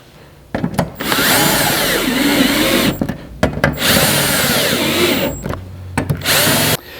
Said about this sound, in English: go ahead and bolt that in with the 8 factory bolts